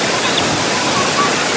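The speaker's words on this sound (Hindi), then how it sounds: "चलो देखो ये वाटरफॉल है" Waterfall in Skardu, a continuous loud broadband rush of falling water filling the scene without a break, close by.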